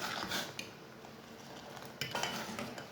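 Spoon stirring sugar into karak chai in a pot or cup, with light metallic scrapes and a few clinks over a steady background hiss, close by and fairly quiet.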